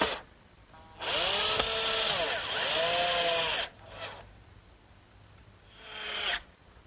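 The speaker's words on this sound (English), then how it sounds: "I want to make sure I take the precaution of pre-drilling so I won't split this nice cedar" Power drill pre-drilling screw holes in cedar, a loud whining burst of nearly three seconds that rises and settles, then a short pulse and a second brief run, close by.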